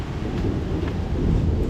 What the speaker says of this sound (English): The rain is really catching up.